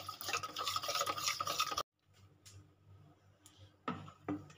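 A thick batter of potato and semolina with chili flakes is whisked briskly in a bowl, a rapid scraping and slapping that stops abruptly, followed by faint taps and a couple of short renewed strokes.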